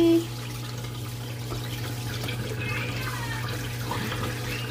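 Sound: Panda portable washer draining water into sink

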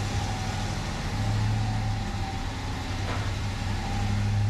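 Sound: Ford Lightning truck engine with stock exhaust, no muffler

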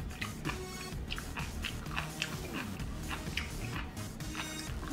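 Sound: crunchy chewing of sea grapes

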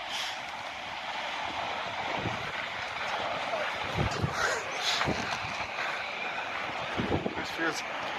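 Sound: strong wind while inline skating

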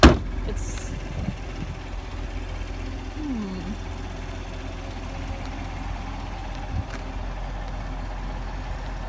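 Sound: Corvette car driving

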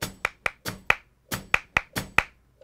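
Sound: hand clapping (palmas) in tanguillo rhythm

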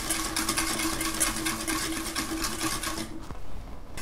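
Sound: high shear mixer stirring lotion emulsion

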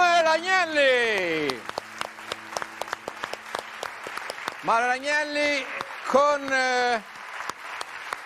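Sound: audience applause

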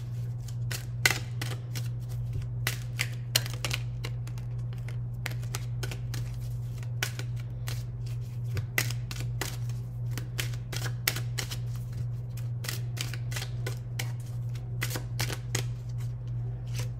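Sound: shuffling tarot cards for a reading

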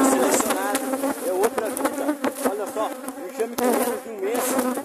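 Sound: honeybee swarm buzzing in hive box

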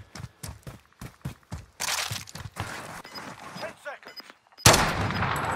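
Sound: gunfire in a video game

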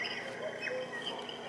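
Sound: tropical forest sounds from noise machine

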